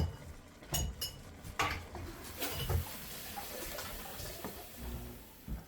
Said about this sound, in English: go ahead and stir that in, mix it all together